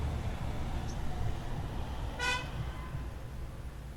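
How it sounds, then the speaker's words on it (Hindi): A single short car horn toot sounds at a distance over a low rumbling background, otherwise quiet outdoors. "आवाज़ भी लगा ली, हॉर्न भी मार लिया, कोई नहीं है यहाँ।"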